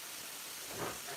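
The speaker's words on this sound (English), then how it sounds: "So we're just cooking our" Onions cooking in a pan produce a steady broadband sizzling hiss, briefly swelling in the middle of a short burst.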